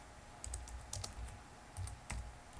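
Keystrokes on a computer keyboard as a command is typed at a Linux terminal, a few quick clusters of soft clicks spread over a couple of seconds, close and fairly quiet.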